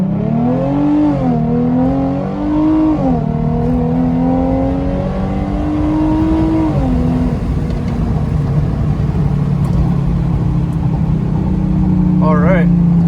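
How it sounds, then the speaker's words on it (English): A 2013 Hyundai Genesis Coupe 3.8 GT V6 accelerating hard from 0 to 60 in automatic manual mode: a loud engine climbs in pitch through several gear shifts from inside the cabin, with a person talking over it. "So I'm gonna do a real quick, just straight up 0 to 60"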